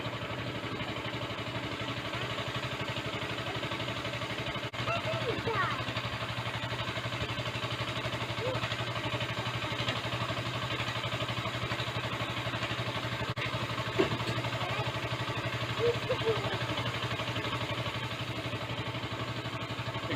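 A go-kart engine idles steadily and close for a long stretch, a dense, even mechanical drone with light clatter and a couple of small knocks.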